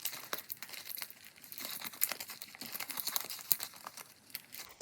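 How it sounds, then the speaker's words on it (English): Paper crinkles and tears in short, irregular bursts close by as edges are ripped and crumpled while making a junk journal, quiet and crisp with no talking. "So I'm just tearing it in a few places and turning those edges up, crumpling them, even tearing a corner off"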